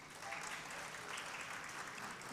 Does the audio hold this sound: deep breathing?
no